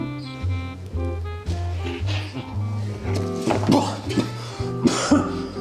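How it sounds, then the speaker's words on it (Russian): Repeated coughing and throat-clearing over a steady musical backing, the bursts rough and close, recurring through the passage. "И, конечно же, кашель."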